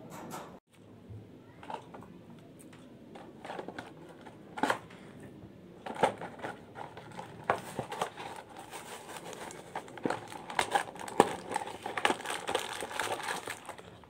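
Someone unboxes an Imperial Dragon toy package with a launcher and ripcord. Quiet plastic and cardboard crinkling, rustling and small clicks come in irregular bursts, growing busier toward the end.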